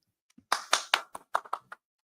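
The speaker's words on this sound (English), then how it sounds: "and clap it up." Audience clapping at a Sabbath religious service: about eight sharp, separate hand claps in an uneven rhythm, close and fairly loud, with a few softer taps at the start and no talking.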